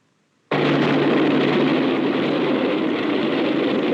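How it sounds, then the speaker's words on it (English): A train nears a railroad crossing, its broad rumbling roar starting abruptly and holding steady and loud, with no voices over it. "As this train approaches, let's see how close it comes before we hear it."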